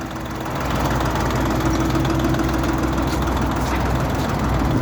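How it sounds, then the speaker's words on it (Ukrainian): Steady, loud running of a Jinma 244 tractor engine driving a two-metre sweeper brush, a continuous low mechanical drone with a knocking diesel idle character and no voices. "Працює джинма 244, щітка двохметрова."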